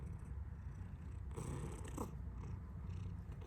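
A house cat purrs steadily and close up, a soft low rumbling drone that continues without a break, with no voices.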